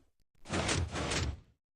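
A piston door closes in a video game with a loud, close mechanical whoosh in two quick surges, followed by silence.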